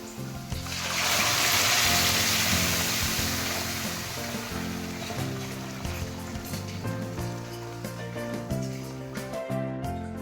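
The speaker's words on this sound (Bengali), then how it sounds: "এবারে মুসুরির ডালটা এর মধ্যে ঢেলে দেবো" Masoor lentil dal is poured into a pan of fried onions and green chillies, giving a swelling wet rush that fades into a steady simmer beneath prominent background music.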